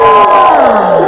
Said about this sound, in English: Cheer! That's a cheer cue!